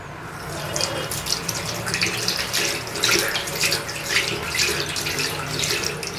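Tap water runs continuously while paint brushes are rinsed under it, a steady close splashing hiss with small shifts as the bristles are worked in the stream.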